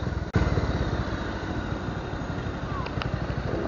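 A KTM motorcycle engine on a road test in Baguio City runs with a rapid, pulsing putter, fairly close and steady, after a brief sharp click near the start.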